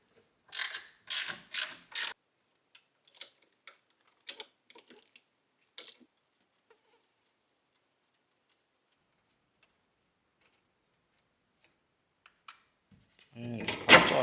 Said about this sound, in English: You can use your Bronco socket driver, 10 millimeter, so it comes with your Bronco toolkit.